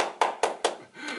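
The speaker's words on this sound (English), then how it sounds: "Give yourself a great big round of applause." Three sharp, evenly spaced hand claps during an online children's singing session, close and distinct, followed by a brief voice.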